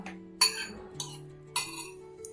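A metal spoon mixing beetroot bharit ingredients in a bowl gives three sharp, close clinks against the rim, evenly spaced over a faint steady hum, with no talking.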